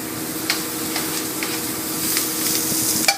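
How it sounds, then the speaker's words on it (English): Shallots sauté in whole butter in a hot pan, giving a steady close sizzle with faint scraping stir strokes recurring every half second or so. "Get your shallots nice and sauteed."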